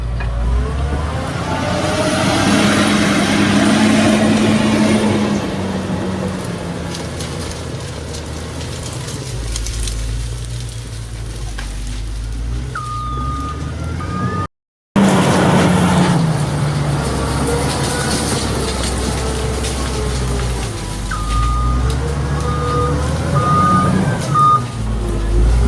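Bulldozer engine rumbling steadily and loud throughout, with a repeating reversing alarm beeping in short regular pulses, a brief cut midway.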